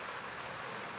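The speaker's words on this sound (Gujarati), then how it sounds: "જો વરસાદ દેખાડું તમને, જોઈ લ્યો." Rain falls steadily on an Indian farm after coriander and fenugreek sowing, a soft, even hiss of drops that stays constant through a brief moment with no voices.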